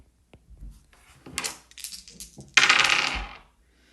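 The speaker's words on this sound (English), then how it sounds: "Now we're going to do 15 more rolls using our dice and record the results." Several dice rattle and clatter onto a hard surface during a math class probability exercise, a few short scattered knocks followed by a louder burst of tumbling dice, with no one speaking.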